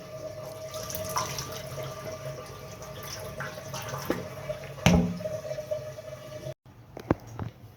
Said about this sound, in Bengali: চালগুলোকে ভালো করে পানি দিয়ে ধুয়ে নিব 2-3 বার।